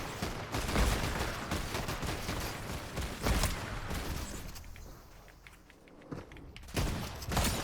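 Rapid gunfire from an automated turret in the video game Fortnite, loud bursts of shots with clattering impacts and footsteps, easing briefly before another sharp volley near the end.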